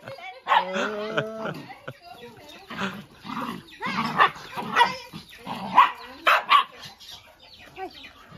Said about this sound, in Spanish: Perros locos.